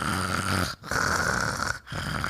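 A person mimics snoring with rough, rasping throaty breaths: three drawn-out snores separated by two brief gaps, close and fairly loud with no other sound.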